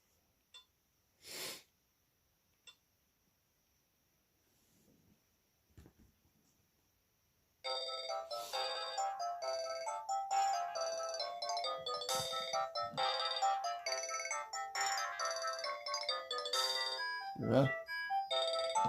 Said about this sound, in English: Let's ring this. As you can see it ringing.